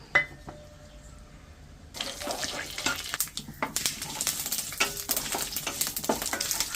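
Fenugreek, mustard seeds and curry leaves crackle and sizzle in hot sesame oil, starting abruptly after a quiet moment and continuing as a dense, close frying hiss with sharp pops and bursts, no talking.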